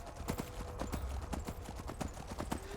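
An armored horse's hooves clip-clop steadily in the Skyrim video game, a regular close rhythmic trotting beat under faint talk.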